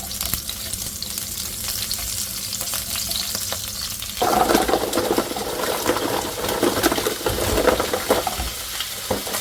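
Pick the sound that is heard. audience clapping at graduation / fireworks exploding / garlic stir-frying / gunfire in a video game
garlic stir-frying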